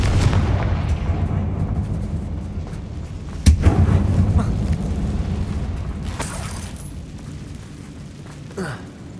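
A Confringo fire spell explodes in the video game Hogwarts Legacy: one sharp, booming blast partway through cuts over a steady rumbling game ambience, and a smaller burst follows near the end.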